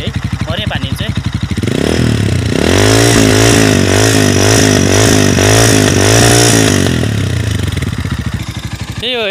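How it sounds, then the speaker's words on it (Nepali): The engine of a Motorhead Scrambler 250 motorcycle idles close by, then revs up in a run of rising and falling throttle blips before settling back to a loud, rough idle. "इन्जिनको साउन्ड है गाइस, यो चाहिँ इन्जिनको साउन्ड है"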